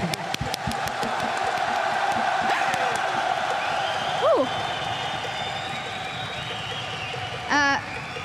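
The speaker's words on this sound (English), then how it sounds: "that I had to commentate, the clapping game for a full arena" A full esports arena crowd at a League of Legends finals claps and cheers in a dense, sustained roar, with whoops and shouts rising over it and a few short sliding tones near the end.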